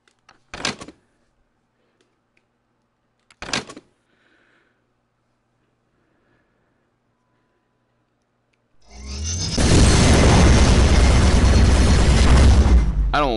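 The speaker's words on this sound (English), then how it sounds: "Laser beam cannon," Two short, sharp zaps ring out with silence between, then a loud, roaring laser beam cannon blast from the video game Rec Room erupts and rumbles on for several seconds.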